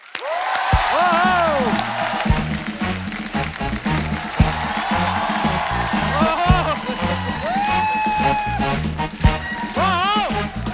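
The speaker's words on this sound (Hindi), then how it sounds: "आप सबकी जोरदार तालियों के बीच प्लीज वेलकम असरानी साहब।" A studio audience welcomes the veteran comedian Asrani with loud, sustained applause and cheering, while a host speaks over the clapping and bright music stings rise and fall through the noise.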